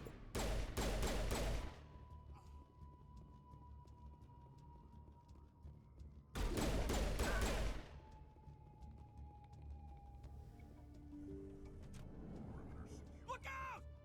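Two loud bursts of rapid gunfire in a video game, fired at Krogan, each lasting over a second and separated by several seconds of quieter hum and faint ambient game sounds.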